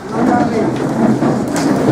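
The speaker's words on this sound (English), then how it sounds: "Rain clap." A group of primary school head teachers at a training programme makes a rain clap, a dense, steady patter like heavy rainfall. It sounds close and continuous, and faint voices mix in.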